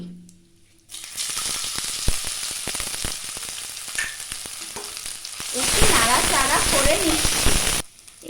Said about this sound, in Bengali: ফোড়নের সুগন্ধ বের হলে এরপরে আমি আলুটা চটকে দিলাম ও একটু নাড়াচাড়া করে নিচ্ছি।